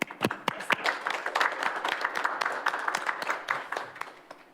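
Scattered applause from a small group at a youth council meeting, moderately loud and tapering off toward the end.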